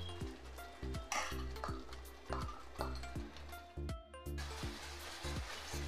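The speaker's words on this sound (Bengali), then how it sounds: "মশলাটা কষিয়ে নিচ্ছি।" A spice paste of ginger powder, turmeric and chilli powder is stirred in a pan, with a spoon scraping and knocking rhythmically against the metal over a soft sizzle, close and steady.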